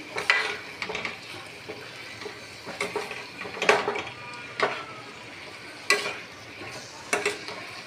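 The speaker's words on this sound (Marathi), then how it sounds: "आता हे सगळं फ्राय करून घेणार आहे मसाल्यामध्ये व्यवस्थित, जेणेकरून ते थोडंसं शिजलं जाईल." Carrots and French beans stirred and frying in masala for a veg biryani, a soft sizzle under repeated scraping clicks of a spoon against the pan, roughly a dozen irregular strokes, close and fairly quiet.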